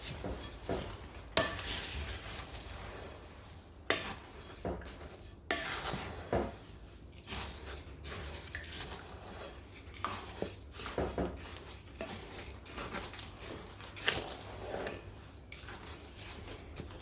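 Rolled oats and dry ingredients for ANZAC biscuits are mixed in a bowl, giving quiet repeated scraping and rustling strokes with occasional louder knocks of the utensil against the bowl.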